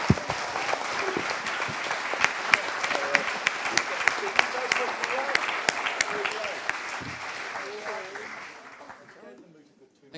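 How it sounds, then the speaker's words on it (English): An audience at a storytelling show in Featherston claps loudly and steadily for about ten seconds, with sharp individual claps standing out, then the applause fades away. A voice can be heard under the clapping. "can we give John Campbell a huge round of applause"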